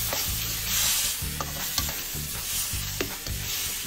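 Onion and chicken sizzle and fry steadily in a pan while a utensil stirs and scrapes through them, the cooking sounds close and continuous with no voices.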